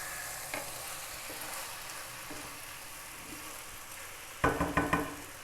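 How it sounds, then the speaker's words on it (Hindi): Chicken biryani ingredients, including kebabs, are stirred in a hot pan: a constant low sizzle with occasional soft spoon scrapes, then a quick cluster of louder clanks against the pan near the end. "बस थोड़ा सा इसे मिक्स करेंगे।"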